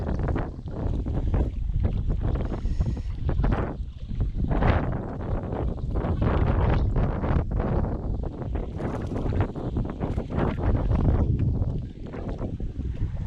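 Strong wind buffets the microphone steadily on Lake Hodges, a loud continuous roar with gusts rising and falling and water sloshing beneath.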